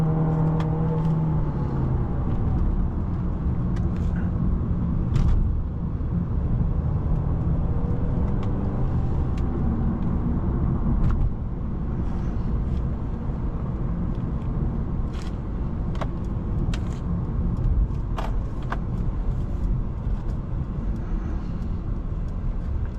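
Steady engine and road noise from inside a moving 2025 Mercedes-Benz CLA 250, with the engine note rising and falling as the quick-shifting transmission shifts, plus occasional faint clicks.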